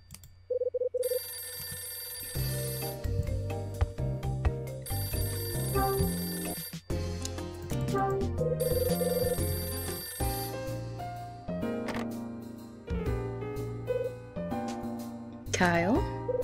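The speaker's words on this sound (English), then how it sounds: "Or the phone's gonna ring." A telephone rings in Room 215 of the video game Hotel Dusk, a repeating electronic ring over layered game music that swells and shifts, with a rising tone near the end.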